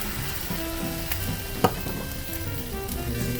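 White wine poured into a hot pan of lemon garlic shrimp, setting off a loud, steady sizzle with one sharp spattering burst partway through, no voices.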